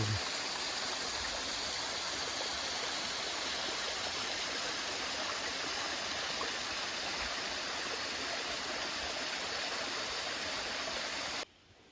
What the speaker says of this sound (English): Now this is a pretty sight that I haven't seen in a while. A nice cascade.